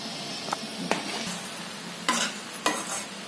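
A spoon stirs food in a pan right after salt goes in, with soft sizzling and a few distinct scraping strokes against the pan, close and fairly quiet, with no talking.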